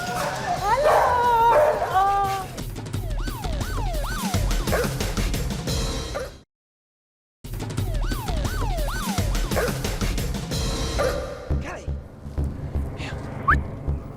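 Police squad dogs including pit bulls and spaniels barking, yipping and whimpering in excited bursts, loud and close, with a siren-like wail and human voices mixed in, broken by a brief silent gap.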